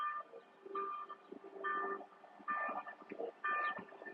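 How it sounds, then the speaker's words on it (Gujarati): A train crosses a bridge overhead while a vehicle passes through the underpass below on a rainy day, giving rhythmic rumbling bursts and clanks that come and go in repeated pulses. "ઉપર ટ્રેન હાલે."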